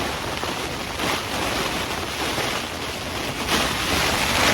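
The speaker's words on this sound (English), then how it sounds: "It's pretty high winds right now." Strong storm wind blows against a Jack Wolfskin Yellowstone 2 tent, a continuous loud rushing roar with surging gusts and fabric buffeting throughout.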